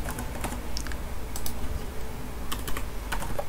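Computer keyboard typing while writing Python code, a fast irregular run of close, crisp key clicks in bursts with short pauses, no talk.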